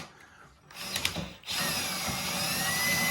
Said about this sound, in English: we're going to use an electric drill on it to operate it